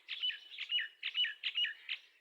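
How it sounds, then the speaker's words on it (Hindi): Several small birds chirp and call in quick bursts, four or five clusters of bright tweets in a steady rhythm, fairly close and clear with no talking. "परिंदों की आवाज़ें सुने, बहुत खूबसूरत आवाज़ें हैं।"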